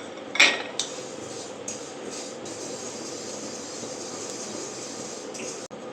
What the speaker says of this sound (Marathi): थोडीशी बडीशेप पण तशीच भाजून घेऊया